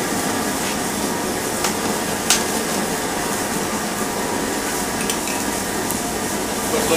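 Blackened catfish sizzles in a very hot pan outdoors, with butter and lemon juice added, giving a loud, dense, continuous crackling hiss close up.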